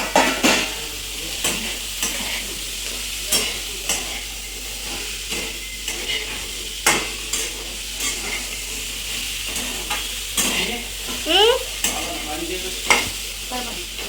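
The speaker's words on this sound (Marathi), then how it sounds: "तर इथे मी भेंडीच्या भाजीला मिक्स करून घेत होते" Chopped okra frying in a pan hisses steadily while a spatula stirs and scrapes it in repeated short strokes, close up and fairly loud, with an occasional clink against the pan.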